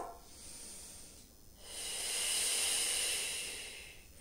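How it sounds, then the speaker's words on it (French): Slow, deep breathing during a stretching exercise in a yoga-style session: a soft airy inhale, a brief pause, then a longer, louder hissing exhale close to the mic. "Encore une respiration."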